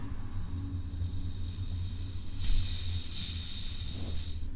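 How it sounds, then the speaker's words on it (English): A soft spray hiss from an aerosol can starts midway, bright and close, over a low background hum. "If you do kind of like just a light spray,"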